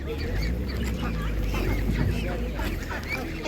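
Several ducks quack amid a noisy crowd at an animal market, with people talking throughout and a constant low rumble underneath.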